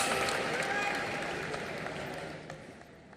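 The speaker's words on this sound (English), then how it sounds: "Round of applause for Rana Dugabate, ladies and gentlemen" Applause from the audience at the closing ceremony of the 53rd International Film Festival of India in 2022, a broad hall-filling patter of clapping that slowly fades, with some voices faintly underneath.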